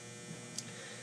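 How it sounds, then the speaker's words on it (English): A clothes dryer runs in the background, giving a steady low electrical hum with a faint constant whir and no speech. "That's my dryer."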